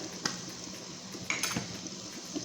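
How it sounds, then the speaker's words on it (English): A pot of salted fish with chili powder and garlic sauce being stirred, with a few light utensil clinks and scrapes over a low, steady cooking hiss. "Give it a stir."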